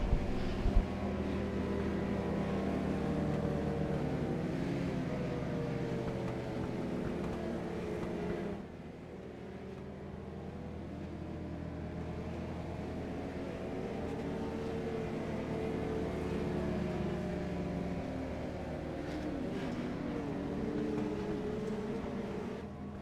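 Dwarf race cars circling a track on a restart lap, a steady, moderately loud engine drone with overlapping pitches from several cars, shifting tone midway as the pack moves on.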